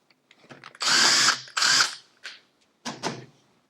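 A power tool backs out the retaining screws holding the starter motor to the crankcase of an X30 kart engine, firing in several short close bursts of whirring separated by pauses and small clicks.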